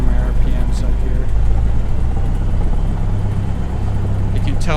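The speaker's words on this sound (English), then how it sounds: "You can tell just by the sound of it how it's idling there." Engine note of a light general-aviation aircraft in a flight simulator, steady low droning rumble as the RPM is brought up and then settles back toward idle, loud and continuous with a person talking over it.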